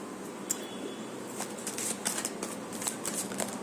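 Tarot cards being shuffled by hand, a soft continuous rustle broken by light papery flicks and taps, close and fairly quiet with no talking.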